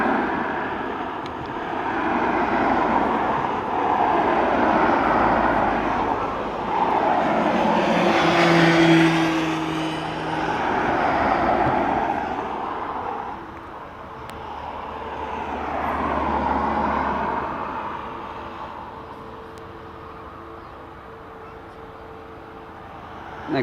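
Airbus A320neo aircraft at Dublin Airport, engine noise rising and falling in slow swells, with a passing whine around the middle and a faint tonal hum, then fading toward the end.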